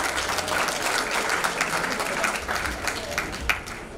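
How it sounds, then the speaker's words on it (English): An audience at a WPP Unconference panel session claps in a steady round of applause, dense and continuous for several seconds with a few sharper individual claps near the end. "a good round of applause for him."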